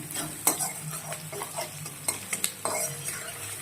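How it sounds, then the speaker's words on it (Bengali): A spatula stirs chili and salt in a frying pan with a soft sizzle, making a quick series of close scrapes and metallic taps with short pauses between strokes. "নুনটা দিয়ে একটুখানি নাড়িয়ে নিলাম।"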